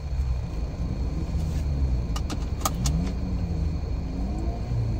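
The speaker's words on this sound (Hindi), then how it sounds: "मैं भी गाड़ी निकलता हूँ।" A car rumbles steadily at close range while a few short metallic clicks and jingles come and go partway through, with no talking.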